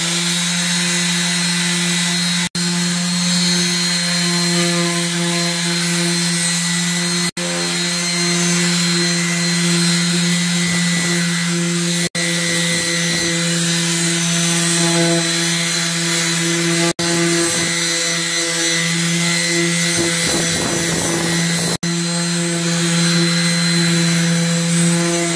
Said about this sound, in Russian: Потихоньку, помаленьку начинаем шлифовать.